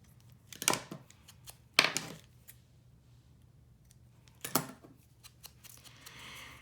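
Scissors trimming paper during a craft session, three short crisp snipping bursts with quiet pauses between, faint and close.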